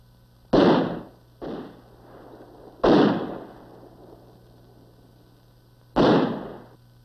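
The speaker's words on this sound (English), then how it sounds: "who subjected them to harassing mortar and small arms fire" Mortar and small arms fire in Vietnam War combat footage: four separate sharp booming reports spaced irregularly over several seconds, each decaying quickly into a quiet background.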